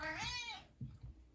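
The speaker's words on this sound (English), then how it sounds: "You don't need to be meowing." A pet cat gives one clear, close meow, a rising and falling call that fades out, followed by a couple of soft low thumps.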